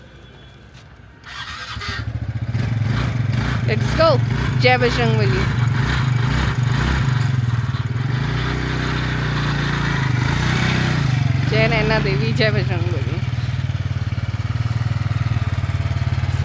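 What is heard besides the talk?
motorcycle riding on mountain road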